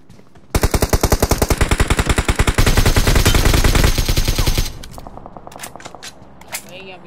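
Rapid automatic bursts of suppressed AKM rifle fire in PUBG Mobile, loud and close, a sustained rattle lasting about four seconds before fading into quieter scattered shots and game noise.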